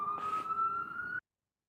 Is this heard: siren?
yes